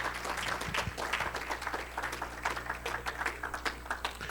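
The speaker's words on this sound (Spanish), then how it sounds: "Denle un aplauso al Señor." A church congregation claps for God during a Spanish-language sermon, applause steady at moderate volume with a few sharper individual claps standing out over a low background hum.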